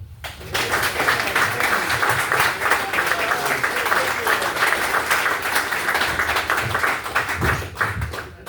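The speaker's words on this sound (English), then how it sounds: "So please round of applause to get us started for Dan Silver." Audience applause welcoming a comedian onstage at a comedy show, sustained dense clapping from a crowd that starts abruptly and carries steadily to the end, with some whoops mixed in.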